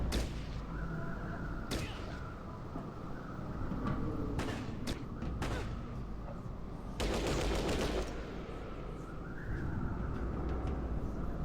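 Gunfire in a video game: scattered sharp shots and a short burst of rapid automatic fire over a constant rumbling background, fairly loud and close.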